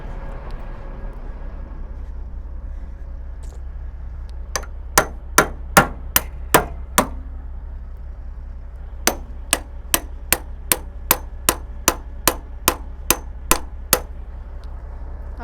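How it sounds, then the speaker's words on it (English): A hammer strikes the metal reach of a truck-and-trailer dump truck over and over, making sharp ringing clangs. One burst of about seven blows is followed by a pause, then a longer run of regular strikes. An engine idles low underneath. "I'm gonna go smack the reach with a hammer"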